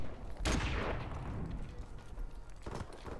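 Gunfire in a Call of Duty Search and Destroy gunfight on the District map: a muffled burst of shots followed by a second, fainter burst, low in level and heard through game audio.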